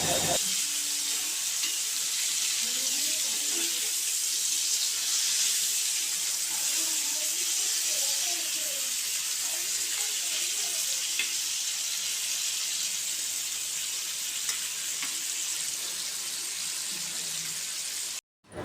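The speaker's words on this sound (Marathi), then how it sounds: "तर अजून इतका या बाजूने अजून आपण तळून घेऊया" Pieces of fish frying crisp in a pan over a high flame give a loud, dense, unbroken hiss of hot oil that runs nearly the whole time before cutting off abruptly, with faint voice-like murmurs beneath.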